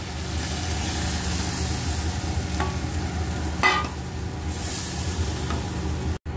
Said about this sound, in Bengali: এইবারে এই যে আমি কর্নফ্লাওয়ার গোলা জলটা দিয়ে দেবো।